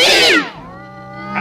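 A cat in Fallout New Vegas lets out a loud, close yowl that sweeps downward in pitch, then trails off into a quieter drawn-out whine that rises again at the end.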